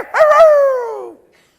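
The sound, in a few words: small dog barking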